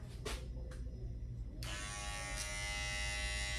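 An electric hair trimmer switches on during a fade haircut, a few faint clicks and rustles first, then a steady close buzzing hum that continues without talk.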